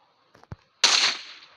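A single sharp sniper rifle shot landing a headshot in GTA V, preceded by a couple of faint clicks, then a loud bright crack with a short decaying tail.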